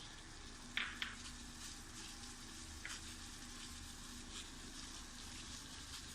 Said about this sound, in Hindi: हमारे पानी को उबाल आ चुका है।